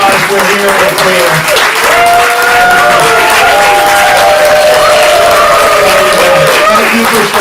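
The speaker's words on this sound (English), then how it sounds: "give us all a round of applause" Loud sustained applause from the audience at an LGBTQ+ stand-up comedy night, dense continuous clapping filling the room with scattered cheers and voices mixed in.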